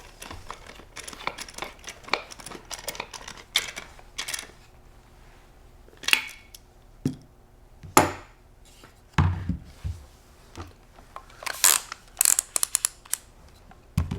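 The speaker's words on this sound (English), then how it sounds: "Use a T-handle wrench to tighten the nut by hand." T-handle wrench turned by hand to tighten a 13 millimeter nut over a lock washer on a Benelli Montefeltro shotgun stud, giving a close series of irregular metallic clicks and taps with quiet pauses between them.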